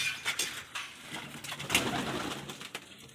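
Several pigeons coo softly and repeatedly in a pigeon coop of mostly female birds with a couple of chicks, low throaty calls overlapping in an irregular rhythm.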